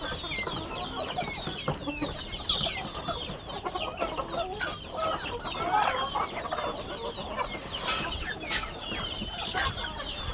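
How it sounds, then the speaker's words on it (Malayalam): Native country hens cluck in a shed where some sit brooding on eggs, giving soft, scattered clucks and calls at moderate distance over a quiet background. "ഇതാണ് നമ്മളെ നാടൻ കോഴീൻ്റെ ഷെഡ്. ഇത് അടയിരിക്കുന്ന കോഴികളാണ് ഇതിൻ്റെ അടിയിൽ."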